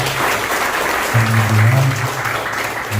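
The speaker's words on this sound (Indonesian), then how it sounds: "tepuk tangan buat Bila Muslim" Applause from a seminar audience in Sukabumi, a dense spread of clapping that holds steady for the full few seconds, with a low hum or voice under it.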